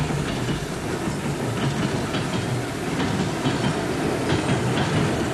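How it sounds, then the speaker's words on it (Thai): A train rolls slowly at about 10 km/h over freshly laid railway track still awaiting its ballast, giving a steady, loud, continuous rumble with faint rhythmic wheel clatter and no voices. "รถไฟแล่นได้แค่ 6 ไมล์หรือ 10 กิโลเมตรต่อชั่วโมง"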